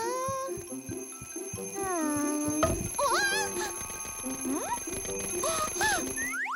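An alarm clock rings steadily and shrilly in a children's cartoon while squeaky, sliding cartoonish voices and sounds play over it.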